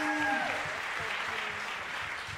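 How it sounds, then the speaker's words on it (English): A jazz audience at a small live concert claps steadily in a continuous wash of applause, moderately loud, as a fading tone from the band lingers at the start. "so can we give another round of applause?"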